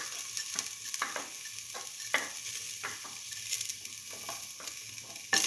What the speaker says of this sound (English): Put in the garlic and the fennel seeds.